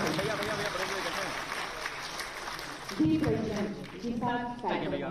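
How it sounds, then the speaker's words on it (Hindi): An audience at an Uttar Pradesh government ceremony for appointment letters claps in a dense, steady burst. A voice then comes in over it, and the applause carries on beneath the talk. "एक बार जोरदार तालियों के साथ स्वागत"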